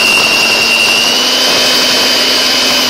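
An electric mixer running on its top turbo setting whips lemon cake batter, giving a loud, steady high-pitched motor whine that holds without a break.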